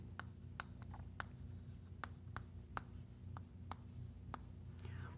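Chalk or marker strokes on a classroom board during an arithmetic lesson, a steady series of short, sharp taps and scratches spaced about half a second apart over a low constant room hum, with no speech.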